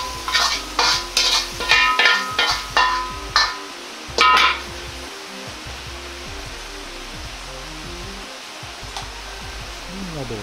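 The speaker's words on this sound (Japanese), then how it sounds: "スプーンなどを使ってご飯の塊を軽く潰しながら合わせておくと" A spoon works fried minced meat into a bowl of rice, pressing down clumps with a quick series of rhythmic scraping strokes close by, then fading into a steady, soft background hiss.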